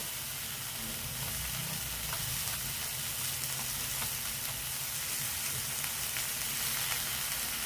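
Ground cumin and Kashmiri red chili powder frying in oil in a pan, giving a continuous dense hiss and sizzle with faint stirring, steady and even throughout.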